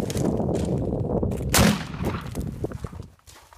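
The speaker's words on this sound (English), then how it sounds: "12 gauge, 3-inch buckshot," A 12 gauge shotgun loaded with 3-inch double-aught buckshot fires into an interior wall, one sharp blast partway through over a dense, noisy background with a faint voice murmuring.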